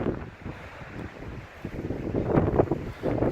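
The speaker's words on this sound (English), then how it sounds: "And as I said, the wind is picking up." Strong wind gusts over a hiking trail at Mueller State Park, Colorado, rumbling steadily against the microphone and building louder in the second half, with no talking.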